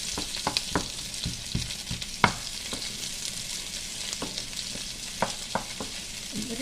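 Whole fennel seeds, cardamom, cloves and star anise frying in a pan with a steady high sizzle, punctuated by repeated sharp scraping and tapping of a stirring spoon, with no talking.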